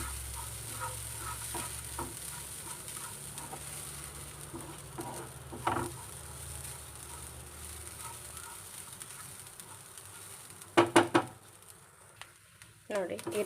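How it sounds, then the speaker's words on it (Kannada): Masala with grated coconut and turmeric being fried for village-style egg masala, a continuous sizzle with spoon scrapes and a cluster of louder clatters near the end. "ಅರಿಶಿನ ಹಾಕಿ ಹುರ್ಕೊಳ್ಳಿ ಇದು ಹಸಿ ಸ್ಮೆಲ್ ಹೋಗೋ ತನಕ ಹುರ್ಕೊಳ್ಳಿ"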